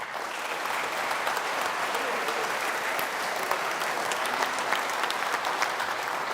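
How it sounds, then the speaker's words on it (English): Audience applause at the SolidCAM World 2024 conference in Rosenheim, Germany, for the SolidCAM GmbH team: dense, steady clapping from a large crowd that holds at an even level throughout. "give a round of applause for the great SolidCAM GmbH team"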